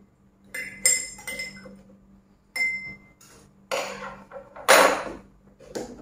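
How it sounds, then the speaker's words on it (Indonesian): A spoon stirs Gula O sweetener, giving a few separate bright clinks in short bursts with quiet gaps between them, close by and fairly soft. "Kita aduk."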